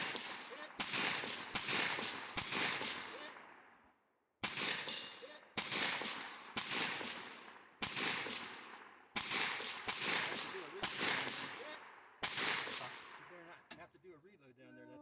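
Rifle shots crack out one after another at an outdoor shooting match, about ten sharp, loud reports spaced a second or so apart with ringing decays, a short pause midway, and faint sounds at the very end.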